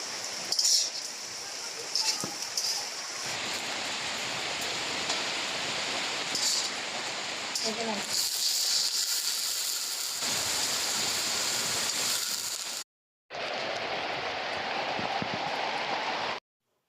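Chopped onions, split green chilies and garlic cloves fry in a pan with a steady hiss and occasional utensil clinks, broken by a brief silent gap before the sizzle resumes.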